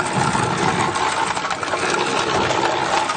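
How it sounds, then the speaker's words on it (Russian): A concrete mixer churns a batch of mortar of sand, cement and stone for a foundation, giving off a loud, continuous mechanical drone and rattle with no speech. "Мешаем на бетонной мешалке."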